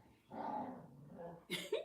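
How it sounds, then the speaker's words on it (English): A pet dog playing upstairs lets out a low, muffled growl lasting about a second, followed by a short higher whine or yip, faint and somewhat distant. "As soon as you say it, I hear a growl."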